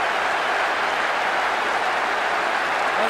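A football stadium crowd in PES 6 on PS2 roars steadily after a goal in extra time, a dense, loud, unbroken wash of noise with no pauses.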